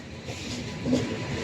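Train rolling past, a steady loud rumble and rush that swells briefly midway, with no voices over it.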